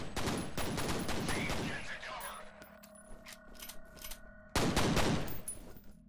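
Gunfire in the horror shooter F.E.A.R.: a loud dense burst of automatic shots, a quieter stretch of metallic clinks and mechanical rattles, then another heavy burst, with no talking.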